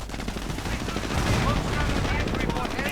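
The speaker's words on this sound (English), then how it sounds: "And another strafing run, in this case not doing much." Aircraft strafing gunfire in a WWII strategy video game gives a dense, continuous rattle of rapid shots that runs throughout, with a commentator's voice partly mixed in.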